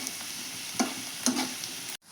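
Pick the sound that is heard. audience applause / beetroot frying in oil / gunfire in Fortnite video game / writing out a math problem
beetroot frying in oil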